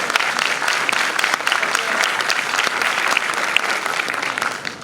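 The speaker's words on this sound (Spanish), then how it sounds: "sí, un aplauso." Sustained applause from an audience at a national agroecology conference, dense steady clapping filling the whole stretch at a loud, even level without any clear talk over it.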